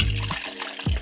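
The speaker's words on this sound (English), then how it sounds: "we're going to pour it back into our jar, or into our container" Color film developer from a CineStill C41 kit poured back into its jar or container, a short, close liquid gush and splash that thins out and then surges again, loud and alone.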